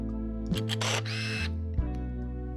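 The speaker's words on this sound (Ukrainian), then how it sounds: "Почули лише, як камера перемотує плівки" Konica Hexar AF film camera's motor winding after a shot: a short mechanical whir of about a second following a soft click, close and isolated, with a faint second tick near the end.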